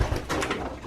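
Pigeons coo briefly and close by while feeding after a three-hour flight, with soft shuffling and pecking noises in a short burst.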